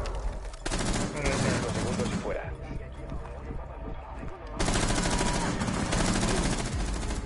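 Rapid gunfire from the video game Rainbow Six Siege in a ranked match, bursts of loud automatic shots running through most of the clip with a quieter stretch in the middle, while players talk and shout over it.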